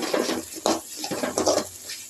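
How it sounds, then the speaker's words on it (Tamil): Water splashes and pours into a cooking pot of jackfruit seeds in short gushes, a few spurts in quick succession, close by. "இப்போ கொஞ்சமாக தண்ணி ஊற்றிக்கிறோம்"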